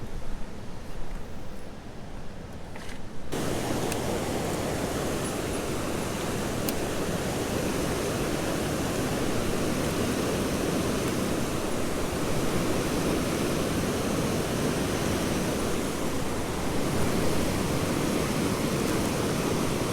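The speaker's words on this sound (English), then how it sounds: "You probably can't hear me. I'm right next to a spillway." Loud, steady roar of water rushing over a river spillway, constant and broadband, close at hand after a brief quieter opening.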